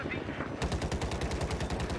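A 25 mm cannon on a scout helicopter fires in Battlefield 4: a loud, rapid, steady burst of heavy gunfire that begins after a brief lull and keeps a fast even rhythm to the end.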